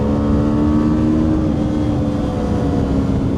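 A 2025 Kawasaki Ninja 7 Hybrid motorcycle accelerates with e-boost, its engine a loud, steady droning hum with a sustained tone close to the rider throughout, then cutting off abruptly at the end.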